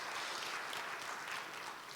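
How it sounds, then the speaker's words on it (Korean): Audience applause at a fintech symposium, a continuous wash of many hands clapping at moderate distance, alone and steady for the whole stretch. "박수 좀 부탁드리겠습니다"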